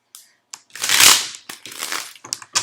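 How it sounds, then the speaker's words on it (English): Quick bursts of papery riffling and soft slaps of tarot cards being shuffled close up, in short uneven flurries with brief pauses. "I'm going to shuffle."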